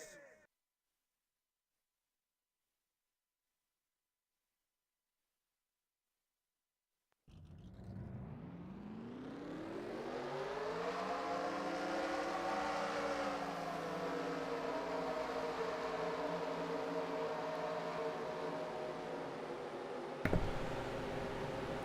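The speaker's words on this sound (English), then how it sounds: "Drivers, start your engines!" After several seconds of silence, video game race car engines roar to life and settle into a sustained, droning idle, with a brief sharp blip near the end, at a stock car race start at Kentucky.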